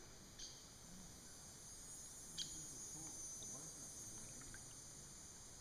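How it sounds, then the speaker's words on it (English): A constant high-pitched drone of heat bugs fills the background by a river backwater, steady and faint, with a few soft clicks and rustles scattered through. "You can hear the heat bugs. It's awesome."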